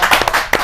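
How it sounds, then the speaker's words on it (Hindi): Audience applause at a Hindi kavi sammelan poetry gathering, a short burst of dense clapping from a crowd, steady and fairly loud throughout the brief moment. "ताली हो जाएगी"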